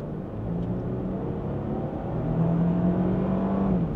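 Lexus GX 550 SUV with a 3.5-litre twin-turbo V6 pulling away from a standstill, a steady engine drone rising in pitch as it accelerates, heard from inside the cabin with no talking.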